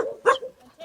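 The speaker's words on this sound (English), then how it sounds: "What's going on with these dogs?" Dogs on an olive farm in Portugal giving a few short, sharp barks and yips, close and loud in a brief burst with no talking.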